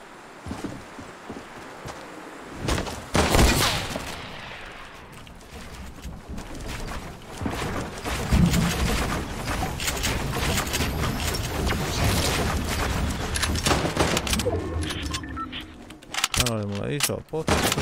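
Gunshots in a video game ring out as several sharp bangs amid loud, busy game sounds such as footsteps and clatter, with a player talking over the action.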